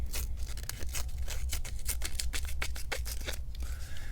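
Victorinox serrated scissors snip through paper in a fast run of crisp, close cuts, each snip a short rasping crunch repeated steadily with no speech.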